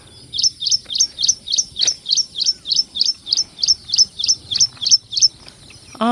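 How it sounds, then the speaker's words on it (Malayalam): A small bird near a lotus field in Thrissur gives a long, steady run of sharp, high chirps, close and loud, repeating evenly about twice a second over a quiet background. "അത് തന്നെയാണ് ആ കിളി തന്നെ സൗണ്ട് ഉണ്ടാക്കണത്"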